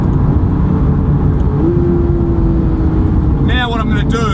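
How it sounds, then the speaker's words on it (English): A Porsche engine drones loudly and steadily up close, its pitch holding then shifting as the gears change, with a whine rising near the end. "You can hear me going through the gears and dropping back."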